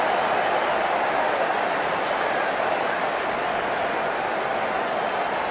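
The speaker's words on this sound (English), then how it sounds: "The crowd on their feet." A stadium crowd roars steadily at a cricket match in the Cricket 19 video game, a broad, continuous wash of cheering at even loudness throughout.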